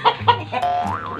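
Close chicken clucks: two quick sharp calls followed by a longer wavering squawk, loud and near.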